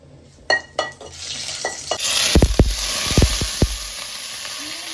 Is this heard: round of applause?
no